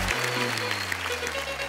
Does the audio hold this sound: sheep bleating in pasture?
no